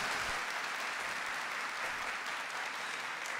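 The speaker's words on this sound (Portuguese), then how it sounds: "Não, aplaudir para valer, isso." A church congregation applauds at a religious gathering, a dense, steady wash of many hands clapping at even loudness throughout, with no voices standing out.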